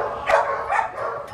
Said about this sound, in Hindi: सब भौंक रहे हैं ना